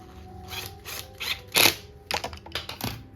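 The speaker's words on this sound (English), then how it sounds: "Take our screwdriver." A screwdriver drives a screw through PVC into pre-drilled wood while building a Halloween zombie ground-breaker prop, giving a few short, close mechanical ratcheting and whirring bursts separated by brief pauses.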